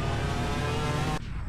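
Engine of a car in a car dealership simulator game, a loud steady hum and drone with strong low rumble that cuts off abruptly near the end, leaving quieter residual sound.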